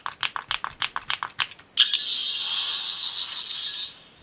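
A quick run of clicking, then a steady high electronic whir from a Character Options Fourteenth Doctor sonic screwdriver toy holds for about two seconds before stopping.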